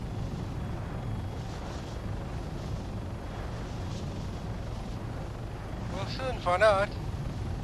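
Video game helicopter in flight during a military mission, a low continuous rotor and engine rumble under a man's radio-style voice, with a brief electronic chirping burst near the end.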